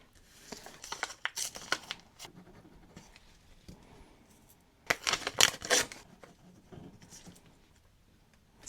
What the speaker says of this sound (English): later on just tear it down to the size you need for your safety pin